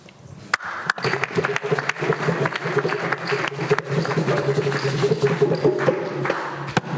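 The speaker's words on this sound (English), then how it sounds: "Can we give our panelists another round of applause, please?" An audience applauds panelists at a live-streamed event, clapping steadily for several seconds, with dense, continuous applause and a murmur of voices underneath.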